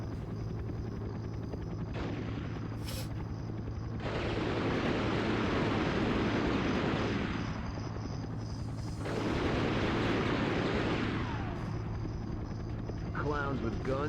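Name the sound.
helicopter in the video game Dead To Rights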